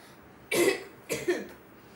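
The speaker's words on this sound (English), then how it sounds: "I am feeling very sick and I am having lots of cough." A person who says they feel sick coughs twice, close and fairly loud, with a short gap between the bursts against a quiet background.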